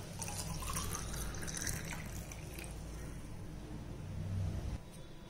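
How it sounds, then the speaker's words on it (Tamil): Water splashes and trickles steadily into a glass for several seconds, a close liquid pour with a slight hollow fill sound. "தண்ணி சேர்த்துக்கலாம்."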